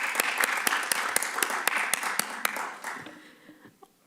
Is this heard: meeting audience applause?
yes